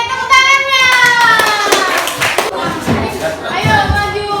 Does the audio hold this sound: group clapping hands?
yes